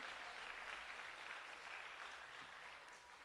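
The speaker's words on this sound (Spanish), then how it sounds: "Dele un fuerte aplauso al Señor" A congregation at a church service claps continuously, a dense, even wash of applause that sounds somewhat distant and gradually tapers slightly toward the end.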